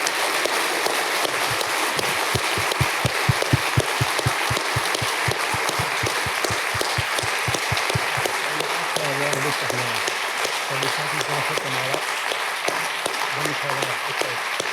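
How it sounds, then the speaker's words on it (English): Conference audience applause rises into dense, continuous clapping from a seated crowd, sustained at a steady level throughout, with a few voices and speech surfacing in the latter half. "So I guess Christian Stumpf, big round of applause for Christian."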